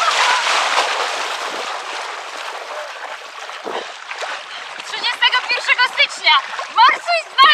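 Winter swimmers wade and splash into cold water at a charity ice-swimming event, with dense splashing at first and rhythmic splashes later. Voices shout over it.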